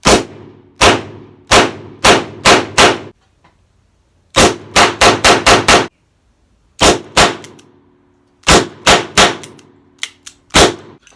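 Colt Python revolver firing Blazer brass 38 Special rounds, sharp loud shots in quick strings of four to six with short pauses between groups, each crack followed by a brief ringing tail.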